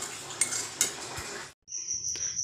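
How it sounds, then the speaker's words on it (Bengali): Semolina is stirred as it dry-roasts in a pan, with a soft scraping sizzle and occasional spoon knocks against the metal, broken by a brief pause before the gentle hiss and stirring resume. "সুজিটা হালকা ভাজা ভাজা করে নিতে হবে।"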